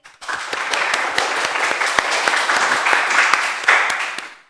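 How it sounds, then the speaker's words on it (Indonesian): A small group claps and applauds for a podcast guest, a dense continuous patter of hands lasting several seconds, fairly close and lively before stopping abruptly. "tepuk tangan dulu buat Kak Rizky."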